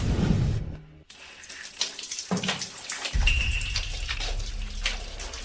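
Cold water runs from a tap into a bath, a steady close splashing stream that pauses briefly, then resumes and fills the clip, with faint drips and no talk.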